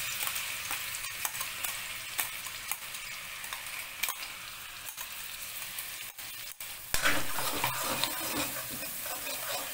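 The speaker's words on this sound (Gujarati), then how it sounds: "તો આપણું ઘી સરસ ગરમ થઈ ગયું છે, તેની અંદર ઉમેરીશું લીલા મરચાંની પેસ્ટ" Fiery green chili paste sizzles in hot ghee in a pan, a steady crackling hiss with occasional scraping from stirring, swelling louder near the end.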